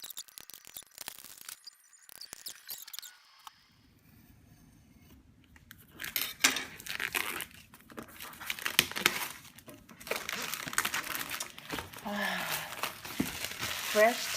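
Cardboard box packaging for a Canary home monitoring system being opened by hand without scissors, with crinkling, tearing and rustling that start sparse and grow busier and louder, close by, with brief quiet stretches between.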